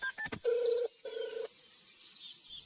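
Telephone call tones: a short burst of dialing beeps followed by two long electronic ringback tones with a brief gap between them, clear and close with no talking.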